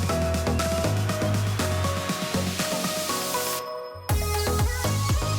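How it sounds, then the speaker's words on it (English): A steady, loud hiss of high-pressure water from a pressure washer cleaning a Ford F-350 pickup, spraying nonstop, with a brief cutoff near the end before the blast resumes. "I'm just trying to get as much as I can off with the pressure washer"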